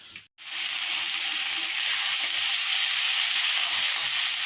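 Cumin seeds dropped into hot oil left over from frying fish crackle into a loud, steady sizzle that holds evenly from the first moment to the last, after a brief pause at the start.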